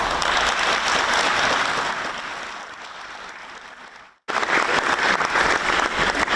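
Audience applause follows an election results announcement by the Electoral Commission chairman, a dense clapping crowd that fades, cuts out briefly, then resumes at full strength.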